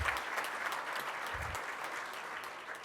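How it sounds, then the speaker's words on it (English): Audience applause at a Rotary Club luncheon meeting in Tulsa, a steady room-filling round of clapping from many hands that holds even and continuous throughout, with no talk over it. "Let's give all these folks a big round of applause,"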